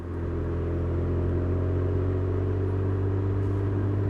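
Alpina-tuned BMW with 600 Nm of torque pulling away, its engine a deep, steady, close rumble that swells slightly at the start and then holds level, with no talking.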